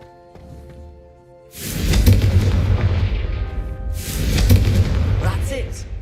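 A Confringo spell cast in Hogwarts Legacy bursts with a loud, close rumbling blast, followed by a second roaring surge of fire a few seconds later, with game music humming underneath.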